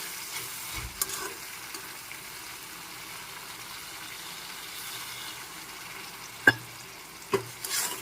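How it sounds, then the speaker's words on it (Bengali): Cheese pasta mixture with soy sauce being stirred in a pan, a soft steady scrape and gentle sizzle with a couple of sharp spoon clinks near the end, no talking. "একটু নেড়ে চেড়ে মিশিয়ে নিচ্ছি"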